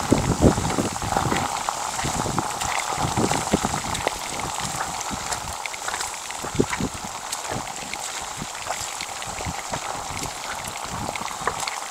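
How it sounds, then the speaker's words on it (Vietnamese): Rain falls steadily on a building site, a dense continuous hiss with scattered sharper drips and patters, close and even throughout, with no voices. "Đêm qua cũng có mưa, chiều nay lại mưa tiếp."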